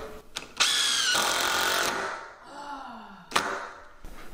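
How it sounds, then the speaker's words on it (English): Power drill pre-drilling screw holes in a wooden beam during a bedroom renovation, a loud whining motor burst that rises, stops and starts again with a short second run near the end. "All I have to do is pre-drill some holes where the screws are gonna be going."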